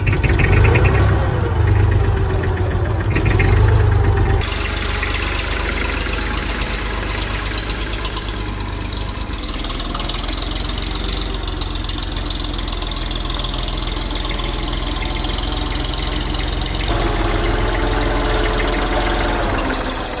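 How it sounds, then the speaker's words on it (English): An old tractor engine idles close by with a loud, steady low rumble and knocking throb that runs unbroken throughout, with no voices. "It is my really old but trusty tractor."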